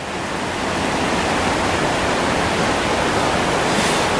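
A waterfall beside a wet trail in the Columbia Gorge pours in a loud, unbroken roaring rush, a dense wall of noise that stays steady and close throughout with no voices.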